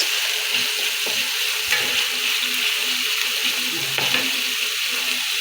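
Steady, loud sizzle of squid frying in a pan as plenty of onions go in, with occasional stirring knocks and scrapes over the constant crackle.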